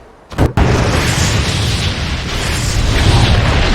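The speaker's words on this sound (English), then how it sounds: "you have the power of nuclear explosions in your hand" A nuke detonates in Garry's Mod, a sharp initial crack followed by a massive sustained roaring blast that stays loud and rumbling, heavy with low-end rumble, with no speech.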